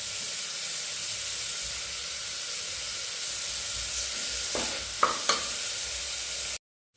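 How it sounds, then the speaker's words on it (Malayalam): Onions with ginger sautéing in a pan, a steady frying sizzle and hiss with a couple of brief clinks of stirring near the end before it cuts off. "അപ്പോൾ സവോള ഒരുവിധം വഴന്ന് കഴിഞ്ഞു"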